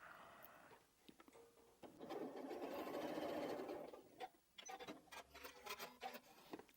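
A sewing machine with its stitch length raised to 2.8 runs steadily through a thick quilted strippy bag, a close, sustained whirring burst in the middle followed by short ticking runs of stitches.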